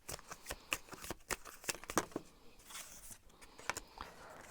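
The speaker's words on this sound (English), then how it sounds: "I'm gonna shuffle and see what the cards have to say" A deck of tarot cards is shuffled by hand, giving a run of crisp, close riffling and snapping bursts in an irregular rhythm, with no speech.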